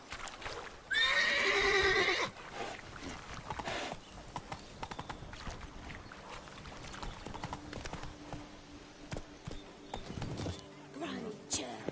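A horse whinnies loudly in The Witcher 3 on PS5, followed by steady hoofbeats of galloping and clip-clop under low game ambience.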